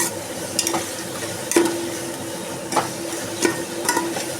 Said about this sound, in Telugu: పచ్చివాసన పోయేంత వరకు వేయించుదాం.